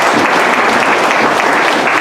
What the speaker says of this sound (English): Nice round of applause for our hard workers